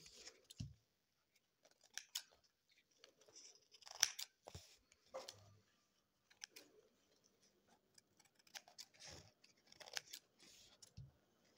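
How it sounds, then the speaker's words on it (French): Quiet, intermittent snips of scissors cutting paper napkins, short crisp clicks and crunches spaced irregularly with near silence between them. "c'est peut-être plus facile avec les ciseaux"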